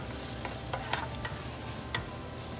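Onions sizzle in a hot pan for a Penang char kway teow noodle stir-fry: a close, even hiss with a few sharp clinks and scrapes of the stirring utensil, and no voices.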